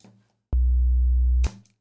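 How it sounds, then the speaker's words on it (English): A low sine wave synth note sounds alone, a loud steady tone held for about a second with an abrupt start and stop, framed by brief faint noise before and after. "So we have a pretty solid sine wave."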